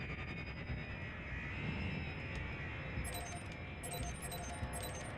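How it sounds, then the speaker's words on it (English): Steady, broad spaceship engine roar from Elite Dangerous, building as the engines power up, with a continuous deep rumble and faint higher tones. "Power to the engines."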